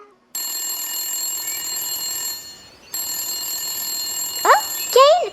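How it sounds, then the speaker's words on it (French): A telephone rings with an incoming call in two long electronic bursts separated by a short pause. The ringing is loud and steady, and brief rising whistle-like tones sound near the end. "Kane, tu as un appel"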